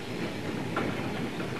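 A train rumbles along the rails with a steady rolling roar and faint rattling, moderately close and continuous. It is an early-1920s Russian train that carried evacuated starving children from the Volga region.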